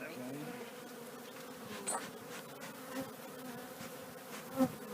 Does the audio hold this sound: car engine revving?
no